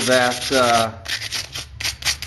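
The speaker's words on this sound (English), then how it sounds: "So we're going to take a little sandpaper. This works. I'm just going to scuff this up real nice" A metal PC case part is scuffed with sandpaper in close, quick rasping back-and-forth strokes, loud and grainy, with brief pauses between passes.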